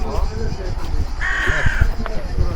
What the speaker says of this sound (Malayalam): ഒരു കാക്കയുടെ കരച്ചിൽ കേട്ടിട്ടേ